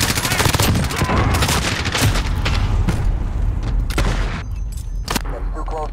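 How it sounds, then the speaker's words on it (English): A Call of Duty multiplayer match bursts with rapid gunfire and a heavy grenade blast, dense close volleys and booming thumps layered through the whole stretch. "Grenade out!"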